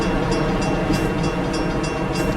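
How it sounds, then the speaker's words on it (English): A Metra commuter train runs in Train Simulator, giving a steady loud rolling rumble with faint rhythmic clicks from the wheels and no talking. "Even if you are operating a delayed train."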